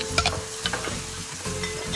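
Onions and tomato puree roast and sizzle in a tray for a brisket, with soft stirring scrapes and a steady frying hiss close by, no talking.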